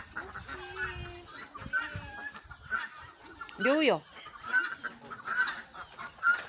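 A one-eyed hen named Cookie clucks among other honking poultry at feeding time, with a loud burst of calls in the middle and scattered clucks around it, while a person speaks briefly.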